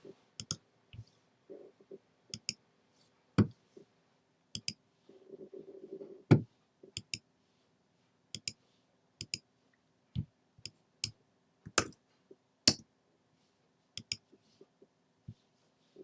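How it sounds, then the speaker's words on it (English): Sharp, isolated computer mouse clicks and bursts of keyboard typing while editing a card design, close and crisp, spaced irregularly over quiet with a short stretch of faster keystrokes in the middle and no talk. "type in the new hex colour"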